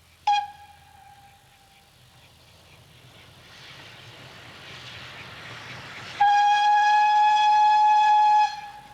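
Great Western steam train arriving on a heritage branch line to Minehead: a short whistle blast, then rising rumble of the approaching engine and carriages, followed by a long, loud, steady whistle.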